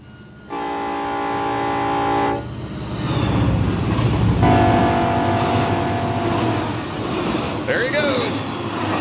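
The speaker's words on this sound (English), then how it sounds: "I hear the other train. It's going to come screaming by." Train in Run 8 Train Simulator sounds two long horn blasts, then rumbles past loudly with steady rolling noise, and someone talks briefly over it near the end.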